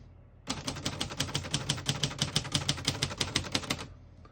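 Rapid keystrokes on a 1953 Royal Quiet De Luxe portable typewriter clatter in a quick, even run of about twenty sharp strikes, close and clear, stopping abruptly.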